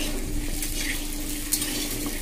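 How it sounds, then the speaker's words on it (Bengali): Taro pieces (kochu) frying in a pan over a medium-high gas flame until browned, a steady close sizzle with occasional stirring and light utensil clinks, no talk. "গ্যাসের ফ্লেমটা মিডিয়াম টু হাইতে দিয়ে একটু ব্রাউন কালার করে আমি কচুগুলোকে ভেজে নামিয়ে নেব"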